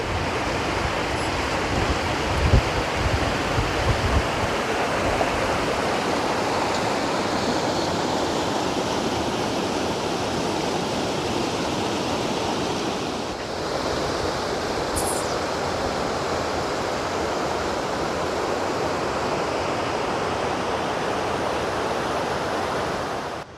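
Water pouring through the shutters of a large dam at Needamangalam, a continuous heavy roar like surf, loud and close, with a brief dip midway and no talking.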